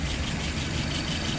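A car engine idles steadily at about 660 RPM, a continuous, even mid-to-low rumble that stays close and constant throughout with no voices.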